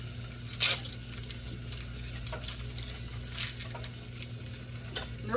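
Food sizzles steadily in a hot pan while it is stirred for chicken enchiladas, a constant close frying hiss broken by a few louder scraping stirs, with no talk.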